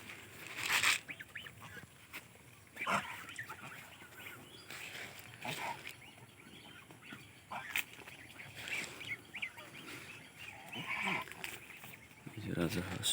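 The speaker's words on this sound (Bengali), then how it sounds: "এই যে রাজহাঁস।" Geese and ducks on a duck farm, with scattered honks and quacks near and far, some louder bursts among softer calls, mixed with a voice talking.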